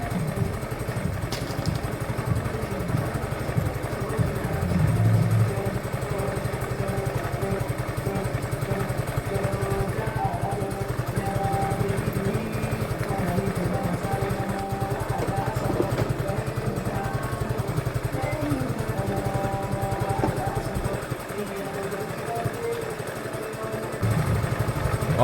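A 125cc scooter with a choke problem runs steadily on a short ride, its engine drone and road rumble continuous and close, with wind noise and no talk.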